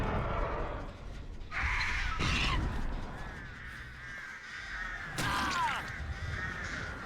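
Birds of Torment crows in the Dead by Daylight video game caw in short bursts at moderate distance, with two clusters of harsh calls over a low, murky ambient background.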